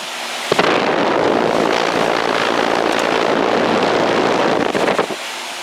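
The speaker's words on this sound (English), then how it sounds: "It has a Bristol reciprocating compressor." A 2003 Carrier 38YCC heat pump with a Bristol reciprocating compressor and GE fan motor runs outdoors, a loud steady roaring rush with wind buffeting, starting abruptly and cutting off near the end.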